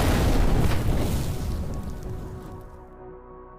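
A grenade explosion sound effect: a loud, deep boom that starts at once and rumbles on, slowly decaying over several seconds into a low fading tail.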